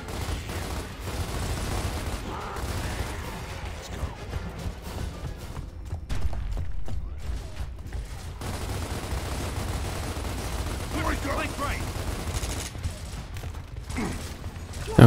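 Weapon fire in the Gears of War video game, heard as dense, loud bursts of rapid gunshots that run almost continuously, with occasional short gaps and a mechanical clatter.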